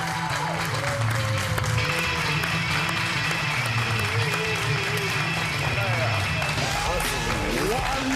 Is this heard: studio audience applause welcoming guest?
yes